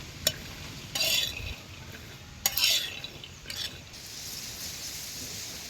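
Peanuts roasting on a hot griddle in a village kitchen, stirred with a spatula: short bursts of dry scraping and rattling over a low, steady sizzle, heard close with no talk.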